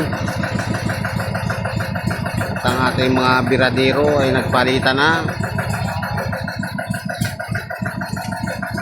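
A boat engine chugs steadily with a rhythmic, throbbing putter throughout, running against a strong current, while someone speaks over it in Filipino.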